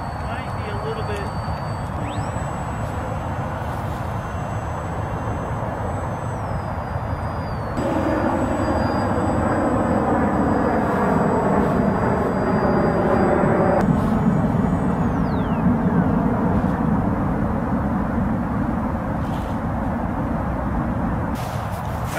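Model airplane carrying a GoPro mount on its maiden test flight, a steady engine or motor drone running throughout with a brighter whine rising in the middle section, with wind rush and no talk.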